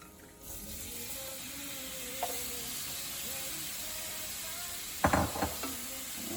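Curry shrimp sizzling in a pan, a soft continuous frying hiss with a few scraping clatters of stirring, the loudest burst near the end.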